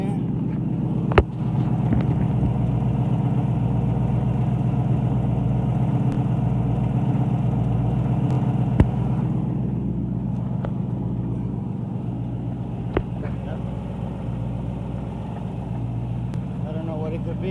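Ford Coyote engine with a knocking fault, running close by: a steady, deep idle rumble throughout with a few sharp ticks standing out above it.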